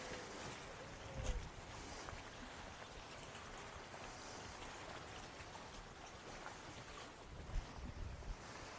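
Water poured in one long, steady stream into a beaker, giving a continuous soft rushing hiss with slight swells near the start and end, faint and unbroken.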